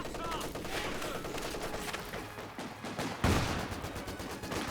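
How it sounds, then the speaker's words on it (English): An MG34 machine gun in a strategy video game fires down on a field in a wide arc: rapid, dense bursts rattle over battlefield noise, and one sharp, loud crack stands out near the end, with a commentator speaking over it. "And there's that MG42 firing down. MG34, excuse me."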